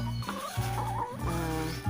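Laying hens cluck and murmur continuously at afternoon feeding time, a close, busy chorus of overlapping calls with a steady low farmyard hum beneath.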